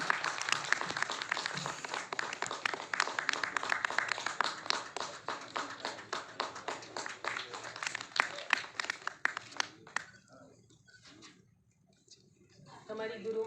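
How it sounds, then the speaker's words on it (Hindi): An audience at a book launch event gives a steady, sustained round of welcoming applause for about ten seconds before it thins to a few last claps. "तालियों के साथ स्वागत करें।"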